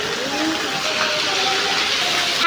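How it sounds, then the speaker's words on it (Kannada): Heavy rain pours onto a road with water rushing along it, a steady loud broadband hiss and gush close by, with faint tonal whines running through and no one speaking. "ನೋಡಿ ಮಳೆ ಬರುತ್ತೈತೆ ಸ್ನೇಹಿತರೆ. ರೋಡು ತುಂಬ ಹೋಗ್ತೈತೆ ನೀರು."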